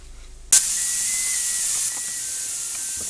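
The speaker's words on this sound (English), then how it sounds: "Now this has had 10 minutes of steam." A pressure cooker vents steam while SpaghettiOs are made from scratch, letting out a loud, steady hiss that bursts on suddenly after a moment of quiet and holds on with no one talking.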